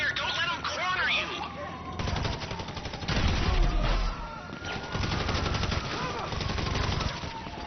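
Sustained automatic gunfire from a heist shootout in GTA Online, with rapid bursts rattling continuously over about eight seconds, dense and fairly loud, with explosions and combat noise beneath, while voices shout faintly in the mix.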